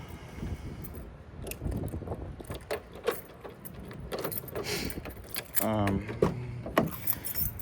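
A big truck key on a ring jingling close by in repeated metallic clinks and rattles, with a voice talking at times and a soft background hum.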